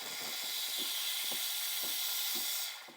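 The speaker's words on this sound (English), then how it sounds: "Just want to purge that steam wand a little bit" An espresso machine's steam wand hisses loudly while it purges, a continuous bright stream of steam that holds steady, with faint soft knocks beneath it. The hiss cuts off sharply near the end.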